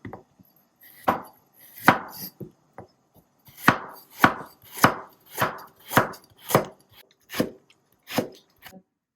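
A knife cuts a carrot into thin strips on a board, about a dozen crisp, close chops in an uneven, then steadier rhythm, with quiet gaps between strokes and no talking.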